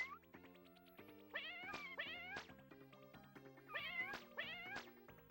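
Synthesized cat meows from the SNES game The Addams Family: Pugsley's Scavenger Hunt, repeated yowling chirps in quick pairs over a chiptune background melody, bright and upfront.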